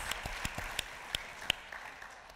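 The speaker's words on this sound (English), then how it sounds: "Give claps for everybody in the room that wrote a question." Scattered, fairly faint claps come from an audience at a live panel talk, a handful of separate hand claps spaced through a couple of seconds rather than full applause.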